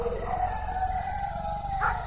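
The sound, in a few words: dogs howling in the distance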